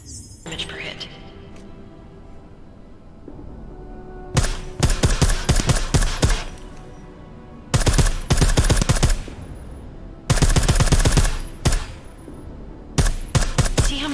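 Bursts of suppressed gunfire from a silenced weapon in Deus Ex: Mankind Divided, coming in several rapid volleys of dense shots separated by quieter stretches with a voice talking underneath.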